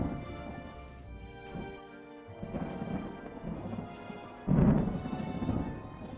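Low rumbling thunder rolls in the distance, swelling into a heavier crack partway through, with a faint rain-like hiss underneath.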